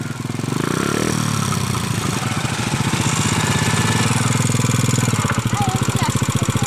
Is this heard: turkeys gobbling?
no